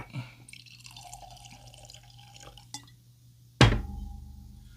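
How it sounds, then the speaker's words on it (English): Bulleit Frontier Kentucky straight bourbon whiskey, 45% in a 375 ml bottle, being poured into a glass: a steady liquid trickle runs for several seconds, followed by a sharp clink and a brief splash near the end, close and fairly quiet. "Let's go ahead and let's get a pour on"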